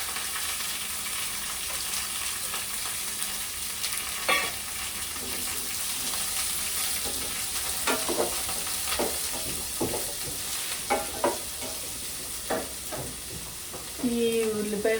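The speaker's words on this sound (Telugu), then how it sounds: "ఈ ఉల్లిపాయ ముక్కలు వేసేద్దాము." Onion pieces sizzle steadily in hot oil with curry leaves and three chopped green chilies for a drumstick curry. A dense, continuous fry rolls on while sharp spoon scrapes and clacks break through, coming more often toward the end.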